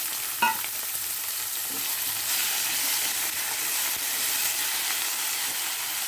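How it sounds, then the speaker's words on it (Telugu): Bitter gourd fries with browned onions and ginger in a pan, giving a steady close sizzle with a sharp clatter of stirring near the start and soft scraping afterward, no voices. "దాని తర్వాత బ్రౌనిష్గా ఆనియన్స్ అయిన తర్వాత కాకరకాయలు వేసుకోవాలి."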